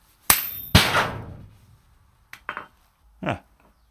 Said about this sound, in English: so with the weld underneath, I'm going to hit against the weld.